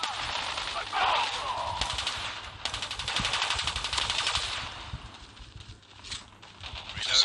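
Rapid automatic gunfire from an AK-107 rifle in an online shooter video game, sustained bursts of rattling shots that rise and fall over several seconds, fairly close, with game ambience behind.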